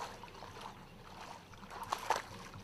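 Water sloshing as someone wades through a shallow wetland about 1.5 feet deep, with soft irregular splashes that build to a couple of louder surges near the end.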